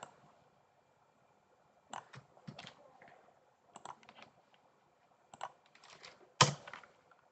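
Keys clattering on a computer keyboard as router RIP configuration commands are entered in a Cisco networking lab, in several short bursts of quick close clicks separated by pauses.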